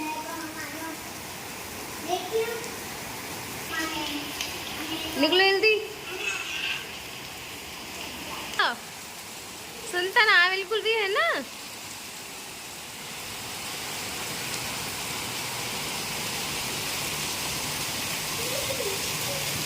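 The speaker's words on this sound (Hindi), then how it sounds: "आप देख सकते हो कितनी तेज़ बारिश हो रही है" Very heavy rain pours down in a steady, dense hiss that fills the whole stretch, while children and an adult briefly talk over it.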